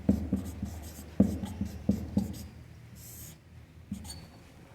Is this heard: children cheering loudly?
no